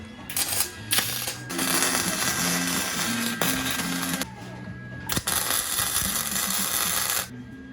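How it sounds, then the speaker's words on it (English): A welder crackles and buzzes steadily at close range while joining a spacer to the top of a strut on a Ford Escort ZX2 car build, with a few brief pauses between passes. "He's about to weld the middle of the spacer to the top of the strut."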